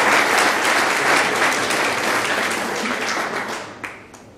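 Audience applause fills a talk event in Salzburg, a sustained dense clapping from a crowd that stays loud throughout and tapers slightly at the end, with a few isolated claps.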